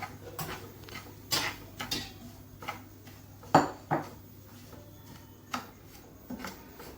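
Semolina dry-roasting in a pan for mango sheera, with ghee, giving scattered scraping clinks of a spoon against the metal pan at a moderate level, no voices.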